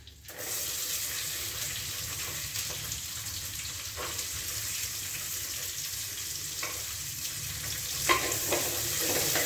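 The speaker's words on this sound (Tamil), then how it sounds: "இதையும் சேர்த்து நல்லா ஃப்ரை பண்ணிக்கோங்க." Garlic and small shallots frying in oil in a pan, a steady broadband sizzle with a few soft stirring clinks, close and continuous with no talk, for a sesame ivy gourd gravy.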